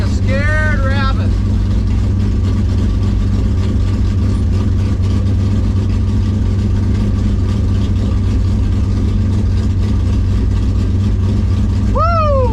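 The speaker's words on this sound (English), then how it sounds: "We're running a dragster, 890 dragster." A 1965 Impala SS drag car engine idles loud and steady in a burnout box, a deep continuous rumble with brief rising whine-like tones near the start and end.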